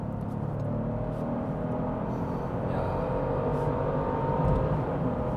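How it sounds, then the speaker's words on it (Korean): A Genesis GV70 facelift SUV accelerates hard for an overtake in comfort mode from about 80 km/h, a steady muffled engine drone and road rumble heard from inside the cabin, rising slightly toward the end. "우선 컴포트 모드로 추월 가속을 한번 보여드릴게요."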